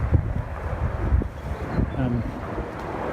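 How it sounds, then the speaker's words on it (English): Breezy wind on the River Thames buffets the microphone in low gusty rumbles, with faint boat noise and a brief tonal whine underneath, no clear speech. "It is actually very breezy"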